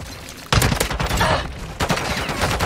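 Bursts of rapid gunfire from Call of Duty Modern Warfare 2 ranked play crackle loud and close, in two main volleys with shorter shots between them.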